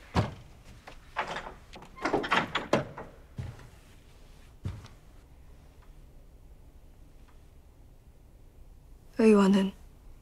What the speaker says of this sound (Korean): 잠시 방문을 열어도 되겠느냐?